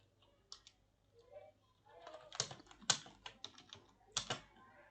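Light typing on a computer keyboard, quiet, irregular key clicks with short pauses and a few sharper taps, close by with a faint background hum.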